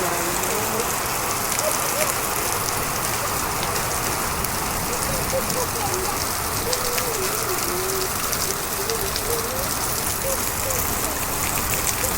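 Heavy monsoon rain pours steadily on a village during a storm, a dense, loud and continuous hiss of drops on surfaces, with faint bird calls in the background.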